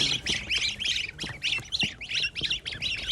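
Young Chinese goose goslings chatter continuously, shrill peeps and squawks tumbling over one another in a busy, close chorus.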